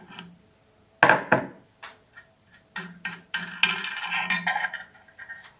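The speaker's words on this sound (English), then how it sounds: "using the pliers, untwist the fixing nut" Pliers working a fixing nut loose on a transfer pump during seal maintenance: sharp metallic clicks and scraping ticks in irregular bursts, close and fairly loud, with quiet gaps between.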